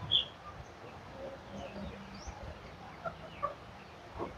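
Chickens on a farm near goats cluck in scattered, fairly faint bursts, with soft background noise running between the calls.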